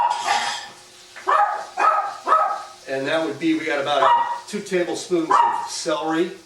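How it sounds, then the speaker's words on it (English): A small dog barks in a home kitchen during ahi tartare preparation, with short repeated yaps and whimpers heard beneath a person talking. "If you hear that barking, that's our little dog"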